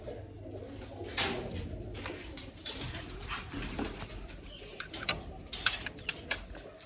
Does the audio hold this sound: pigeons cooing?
yes